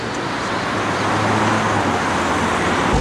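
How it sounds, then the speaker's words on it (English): An Alvis Firebird car driving on the road, a steady, close, continuous broadband rumble of engine and road noise with no voices over it. "This car drives very well."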